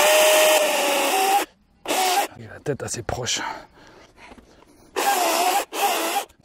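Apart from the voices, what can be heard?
DeWALT FLEXVOLT chainsaw cutting wood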